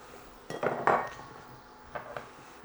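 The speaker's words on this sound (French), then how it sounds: "On va juste mélanger ça un petit peu." Utensil scraping and clinking against a pan while vegetables are tossed in oil for a pork chop dish, with a few clustered metallic knocks followed by quieter scrapes; no talking.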